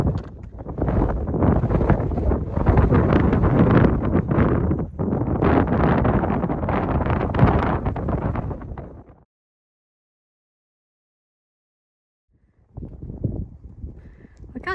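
Wind buffeting the microphone on a breezy, cloudy hiking trail: heavy, roaring gusts for about nine seconds, then a sudden silence before another gust returns near the end.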